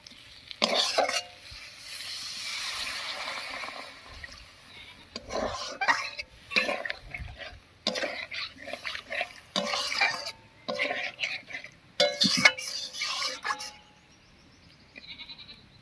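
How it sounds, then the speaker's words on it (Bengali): Potol and potato curry with milk is stirred in a pot, giving intermittent scraping and clattering strokes in uneven bursts, close and moderately loud, with a quieter stretch early on. "দুধটা দিয়ে খুব ভালো করে মিশিয়ে নিয়েছি"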